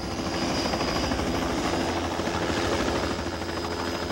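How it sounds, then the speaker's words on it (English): Military helicopter, a medical evacuation dust-off of the Vietnam War, flying with a loud continuous rotor chop and engine whine that stays steady and close throughout. "Medical evacuation helicopters, or dust-offs, would carry American wounded back to aid stations."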